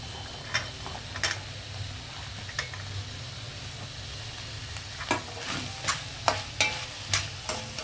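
Onion, cabbage and carrot fry in a pan with a soft continuous sizzle, punctuated by sharp clicks and scrapes of a spatula stirring, more frequent near the end.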